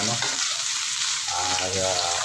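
Onion sautéing in a pan for tom yum noodle soup, a steady close sizzle and crackle of frying that runs through the whole moment without pause, with a faint voice murmuring underneath.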